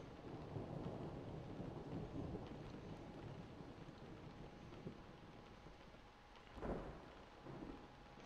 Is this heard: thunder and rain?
yes